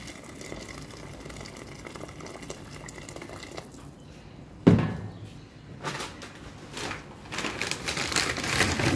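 Hot water is poured over vegetables in a pot for bihon noodles, with a sudden splash midway and sizzling, bubbling liquid building toward the end, alongside faint kitchen clatter.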